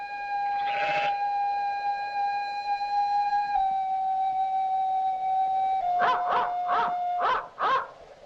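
A long, steady wailing howl holds and slowly slides down in pitch, followed by a quick run of five or six sharp yips, faint and alone against quiet surroundings.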